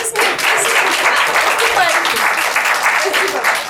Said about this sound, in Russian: Давайте под ваши аплодисменты.